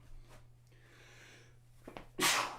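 A single sharp sneeze from someone with springtime allergies, loud and close, bursting out near the end after a quiet stretch with faint breathing and a brief gasp-like intake before it.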